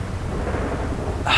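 Thunder rumbles through a rainstorm in the GTA V video game: a steady, close, low roar with rain hiss for just over a second, then a brighter, louder crack at the very end.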